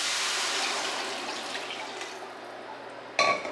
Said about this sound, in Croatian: Ovo ću sad sve preliti sa litrom vode